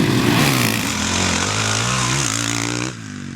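A 2013 Honda CRF 450 R four-stroke motocross bike engine roars loudly and steadily up close, its pitch wavering and dipping before easing off near the end.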